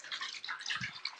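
Faint running water splashes and trickles into a tub, a soft steady pour with small drips, fairly close.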